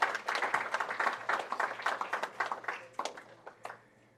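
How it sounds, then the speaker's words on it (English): A small audience at a debate competition in Belmopan claps for the participants, a brief round of distinct, fairly close hand claps that thins out and fades toward the end. "Let's give everybody a round of applause once again."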